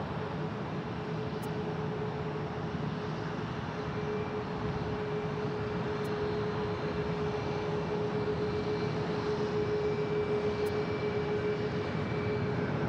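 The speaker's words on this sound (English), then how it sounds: "The Southwest departure is going to Dallas Love Field." Southwest jet airliner departing Phoenix Sky Harbor, a steady, moderately distant engine roar with a sustained whine running through it, alone and unbroken throughout.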